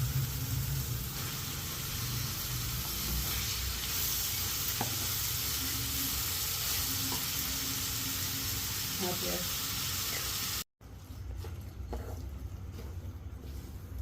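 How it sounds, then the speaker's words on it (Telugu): Spinach tipped into hot oil in a pan for a Telugu palakura ullikaram dish sizzles and fries steadily and loudly, with faint stirring scrapes, while someone talks over it; the sizzle briefly cuts out near the end, then continues. "ఇప్పుడు పాలకూర వేసుకుంటాం."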